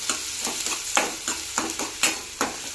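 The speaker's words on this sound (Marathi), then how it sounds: "आता यात घालायचा कांदा आता हलवायचं" Onion and mustard seeds sizzle in a hot pan while a spoon stirs them in quick scraping strokes, about twice a second, close and steady, with no voices.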